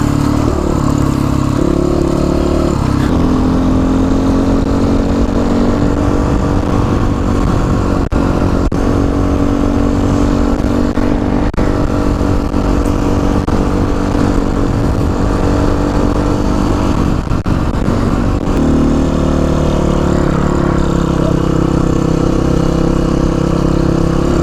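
A GPX FSE300R motorcycle engine runs loud and close while riding, holding a steady droning note with a few shifts in pitch as the revs change, and no voices over it.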